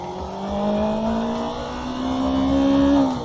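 A motorcycle engine revs up close by as the rider accelerates and shifts up, the engine tone climbing steadily and holding in a smooth drone.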